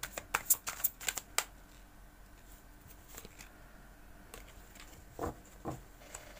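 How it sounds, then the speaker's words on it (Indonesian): Tarot cards are spread across a table, with a quick run of crisp card flicks and slaps at first, then a few scattered softer card snaps, close and clear in a quiet room. "Kita lanjutkan menebar kartunya."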